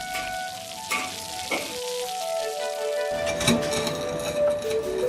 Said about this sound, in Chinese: 下锅炸至酥透